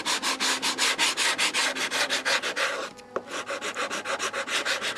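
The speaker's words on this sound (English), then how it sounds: "I'm using a sanding block to get the last little bit so that this is a tight fit." Sanding block rubbed back and forth against a part for a tight fit in model aircraft construction, a steady run of close, loud rhythmic strokes that pauses briefly before resuming.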